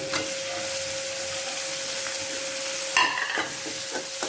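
Onions, ginger garlic paste and tomato sauté in a pan, giving a steady close frying hiss broken near the end by a few sharper stirring scrapes.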